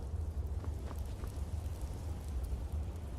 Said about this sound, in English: We got water raining in from the ceiling